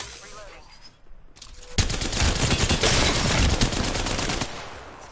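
Sustained burst of rapid gunfire in a battle royale shooter game, starting after a brief quiet lull and continuing dense and loud for several seconds, with faint talk underneath.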